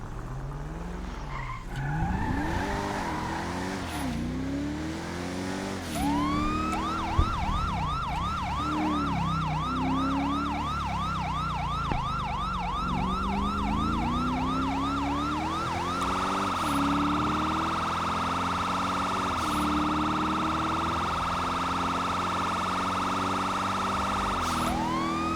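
Fire truck siren in the FiveM GTA V roleplay game, wailing in rising and falling sweeps that switch to a fast yelp, then a steady tone, over a running vehicle engine, loud and close.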